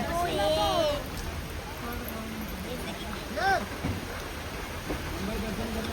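Steady rain falls in Mumbai near the sea, a constant broadband hiss running through the whole stretch, with people talking over it.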